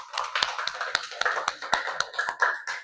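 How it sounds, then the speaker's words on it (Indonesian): A group of students claps in quick, rhythmic bursts, the sharp slaps landing in a steady patterned beat for a few seconds, in a classroom. "kasih tepuk tangan untuk kelompok 3"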